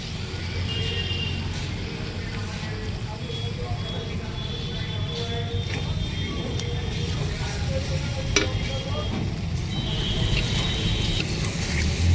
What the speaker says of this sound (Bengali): মশলাটা প্রায় আমার এক মিনিটের মতো ভাজা হয়ে গেছে